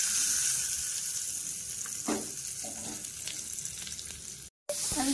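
Hot oil sizzles steadily as cumin and dried red chillies temper in a pan for a ridge gourd and tomato chutney, a close, continuous frying hiss with a few faint clinks and a brief dropout near the end.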